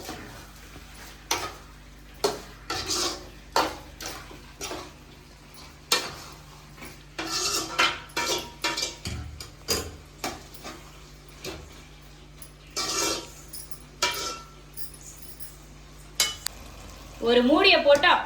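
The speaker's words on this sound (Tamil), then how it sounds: "நல்லா இந்த இஞ்சி பூண்டு வெங்காயம் தக்காளி எல்லாம் சிக்கனில் படுற மாதிரி பரட்டி விட்டுக்குவோம்" Chicken stir-fried in a pan with ginger, garlic, onion and tomato for a spicy chicken curry. A spatula scrapes and clatters against the pan in scattered strokes over a faint, steady sizzle, ending in a louder burst of stirring.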